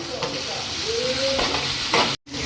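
Ajwain seeds sizzle in hot oil for a restaurant-style chana masala, and a spoon stirs them in the pan. A loud, steady frying hiss runs close up, with a few scrapes, then breaks off briefly near the end.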